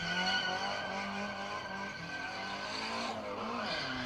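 A car doing donuts on a skid pad, laying down tyre smoke, holds a sustained engine drone with shifting revs and a tyre squeal running through, loud and continuous.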